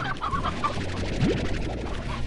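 Chickens cluck in short bursts in the video game Slime Rancher, over a steady background hum, with a brief rising chirp partway through.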